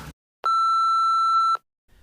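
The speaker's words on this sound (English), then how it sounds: "Leave a message after the beep." A single answering-machine beep, a clean steady electronic tone lasting about a second, sounds alone between brief silences.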